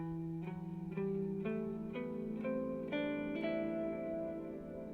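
An electric guitar played through chorus and reverb effects steps up a minor scale one note at a time. The notes are evenly spaced, each ringing into the next, with no talking.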